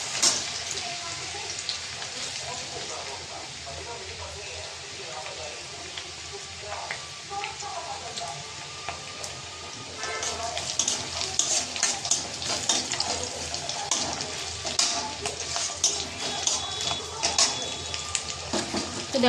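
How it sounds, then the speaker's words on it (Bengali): Garlic fries in hot oil in a wok with a steady, close crackling sizzle that grows busier and louder midway, while a voice talks over it. "তো দেখো বন্ধুরা রসুনটা ভাজা ভাজা হয়ে গেছে"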